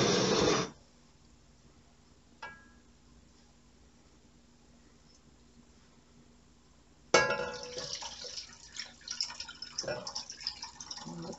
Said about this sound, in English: The next thing I'm going to add is 4 cups of water.